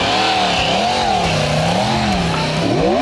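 A 1998 Yamaha R1 motorcycle engine revs hard during a run, a loud, close, continuous howl that climbs and dips through gear changes, with no voices.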